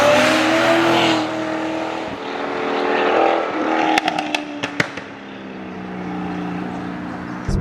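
A 2008 Chevrolet Corvette C6RS Pratt & Miller race car on Michelin tires roars loudly from inside the cabin, engine pitch rising and falling through gear changes, with a few sharp pops and bangs partway through.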